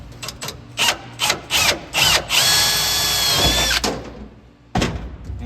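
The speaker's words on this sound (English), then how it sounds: "So we'll start out by drilling a 7/32 hole." A power drill boring a 7/32-inch hole: a few short whirring bursts, then a longer steady high-pitched run, a stop, and one more brief spin-up close by.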